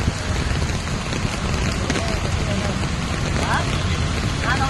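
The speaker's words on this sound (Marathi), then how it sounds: "तर पाणी कसं वाहत आहे बघा." Floodwater running across a road in Ghatkopar East, Mumbai, during rain: a constant broadband rushing wash with light splashes, steady and fairly loud throughout.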